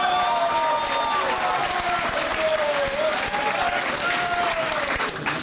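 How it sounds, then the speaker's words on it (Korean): A large crowd at a political party rally in South Jeolla claps loudly and steadily throughout, with cheering mixed in. A voice carries through a public-address system over the applause. "박수 한번"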